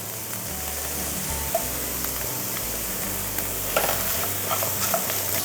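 Chopped onions with a little salt sizzle steadily in a hot pan for a Kerala chicken curry, with scraping stir strokes running throughout at close range and no talk.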